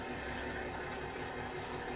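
Model locomotive passing close by at full throttle, a loud, steady motor roar with broad rumble that holds level throughout, no voices.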